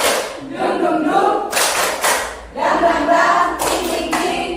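A group claps a rhythmic 'tepuk semangat' spirit clap in a school setting, loud sharp bursts in a patterned beat with chanting voices around the claps.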